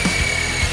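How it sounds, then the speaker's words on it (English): An Eco 36 magnetic drilling machine runs with a steady high-pitched motor whine and broadband mechanical noise, continuous and loud for the whole brief moment. "Eco 36 magnetic drilling machine."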